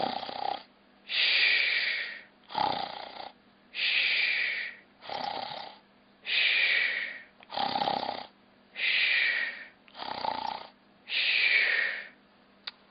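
A voice imitates snoring: about nine loud, evenly spaced snore bursts, each a raspy inhale-like rumble separated by short pauses, recorded close and alone.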